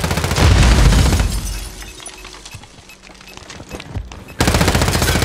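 Gunfire in a video game plays loudly and densely, fading into quieter scattered clatter and breaking sounds before a sharp renewed burst of rapid shots near the end, with no talking.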